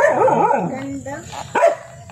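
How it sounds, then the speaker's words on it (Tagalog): A dog on a high mountainside in the Philippines barks and yips in a few short bursts close by, while a person talks over it. "May aso."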